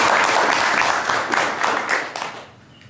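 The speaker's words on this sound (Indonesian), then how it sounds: "Untuk itu tepuk tangan kepada Anda" Audience applauding at an evening training event, a dense burst of clapping from many hands that holds steady and then thins out toward the end.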